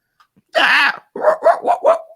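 A voice imitates a demonic dog, giving a rough drawn-out snarl followed by four quick, close barks.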